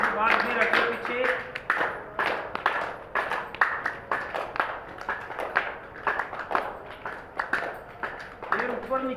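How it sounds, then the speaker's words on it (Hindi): Rhythmic hand clapping during a winter yoga exercise routine, a long run of evenly spaced, sharp claps repeating steadily, mixed with a person talking over them. "100 ताली लगाने के बाद फिर आगे पीछे"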